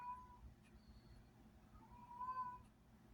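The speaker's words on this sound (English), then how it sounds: "they're messing with the cat again. They're hurting my cat." A domestic cat meows twice, a drawn-out cry near the start and another longer one toward the end, moderately close over a low background rumble with no talking.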